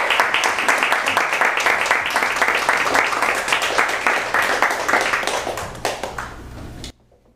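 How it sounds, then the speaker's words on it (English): An audience at a live music venue welcomes a performer to the stage with loud, dense, close applause that holds steady, thins out toward the end, and then stops abruptly. "give me a round of applause"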